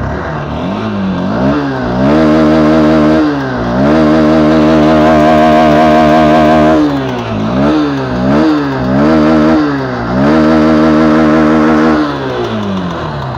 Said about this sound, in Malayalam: ഇനി നമുക്ക് ഇതിൻ്റെ എക്സോസ്റ്റ് നോട്ടൊന്ന് കേൾക്കാട്ടോ